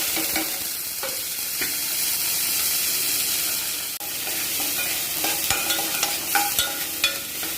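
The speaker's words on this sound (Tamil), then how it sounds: "எண்ணெய் காஞ்ச உடனே பெரிய வெங்காயம் எடுத்து வச்சுருக்கிறேன் ஒரு மூணு வெங்காயம் கருவேப்பிலை போட்டுக்கலாம்" Three large onions and curry leaves fry in hot oil for a mushroom and egg gravy, a continuous bright sizzle broken by intermittent close stirring scrapes and clinks, with no talking.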